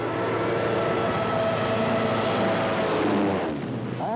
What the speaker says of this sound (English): Tanks, motorized equipment, and one of our own inventions, the dive bomber.